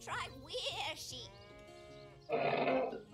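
Sheep bleat in Divinity: Original Sin, with one drawn-out wavering bleat standing clear in the middle and a voice talking over the sounds before and after it.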